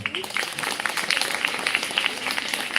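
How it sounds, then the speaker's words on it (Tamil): A crowd applauding at a government higher secondary school's new building inauguration, steady close clapping with a few sharper individual claps standing out over the continuous patter. "ஒரு கைத்தட்டல் கொடுத்துருவோம்"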